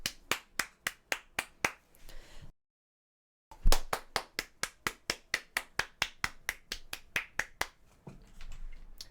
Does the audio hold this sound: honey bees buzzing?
no